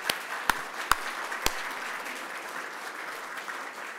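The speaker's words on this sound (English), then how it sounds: "Now we can clap." An audience at the 2019 Tyler Prize award ceremony applauds steadily, with a few sharp, close claps standing out near the start before settling into an even, moderate wash of clapping.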